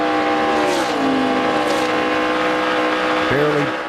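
A NASCAR Nationwide stock car engine at the O'Reilly Auto Parts 300, held at a steady loud drone with the throttle barely applied, pitch sagging and dipping near the end; commentators talk faintly underneath.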